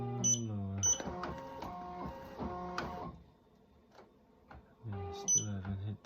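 A Ricoma EM 1010 embroidery machine stitching the back of a New Era fitted cap on a standard hat hoop, rapid mechanical whirring and tonal motor hum in bursts, with a quieter pause in the middle.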